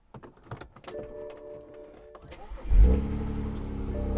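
A BMW car is started nearby: clicks and small clunks, then the engine cranks and catches at about the midpoint and settles into a steady, loud idle hum as the car pulls off, no talk.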